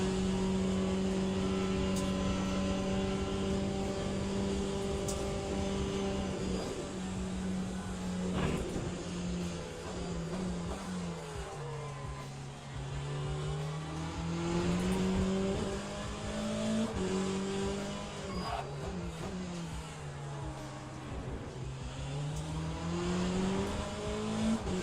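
Race car engines roar continuously in the sim racing game Le Mans Ultimate, a loud sustained drone rising and falling in pitch through gear changes, with cars nearby and no talk.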